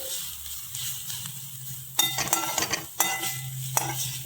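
Green jackfruit cooks in a pan with ginger, green chilli, curry leaves and salt, giving a soft sizzle under short bursts of spoon scraping and clinking on the pan.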